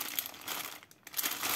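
Close, loud crinkling of paper wrapping scrapbooking supplies, continuous rustling with a brief lull in the middle before the crackling picks up again.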